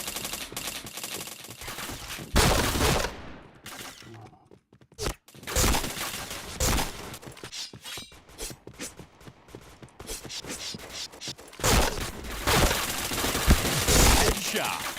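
Rapid bursts of automatic gunfire from the Point Blank shooting game fire in loud broadband volleys with brief gaps between them, harsh and close.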